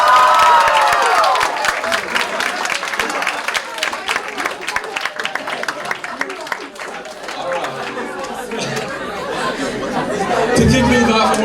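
A gathered crowd claps and cheers with lively chatter mixed in, a long steady wash of applause that thins slightly midway and swells again near the end.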